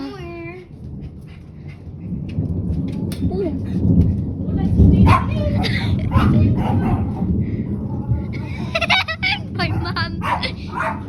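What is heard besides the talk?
dog barking during a thunderstorm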